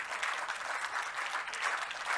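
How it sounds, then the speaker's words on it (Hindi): Enthusiastic audience applause at a three-day Hindon festival, a continuous dense patter of clapping, moderately loud and steady with no talking. "इनके लिए भी ज़ोरदार तालियां हो जाए"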